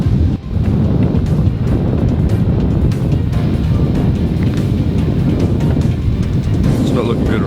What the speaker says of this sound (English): The wind is slightly too brisk.